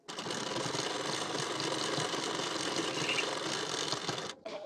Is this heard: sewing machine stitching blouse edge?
yes